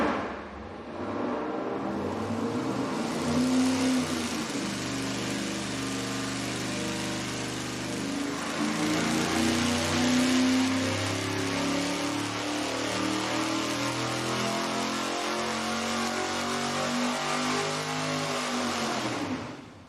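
A V8 engine fitted with a single four-barrel carburetor and a Victor Jr. intake manifold roars on a dyno, loud and close, with the revs sweeping up to a sustained pull before falling away.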